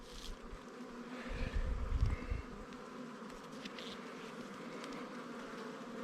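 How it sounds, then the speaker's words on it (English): Honey bees buzzing in an open hive box in early spring, a soft continuous droning hum of many insects with a slightly louder swell midway, fairly quiet with no talking. "There's a lot of bees in this box."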